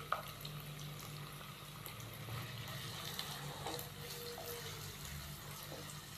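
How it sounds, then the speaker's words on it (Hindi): Chopped onions frying in a pan with ginger garlic paste, a soft, steady sizzle with faint stirring touches, constant and fairly quiet throughout. "प्याज को हम 3-4 मिनट के लिए फ्राई कर लेंगे"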